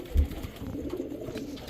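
Pakistani Teddy pigeons give a single low, soft coo close by in a short clip, with faint room noise around it.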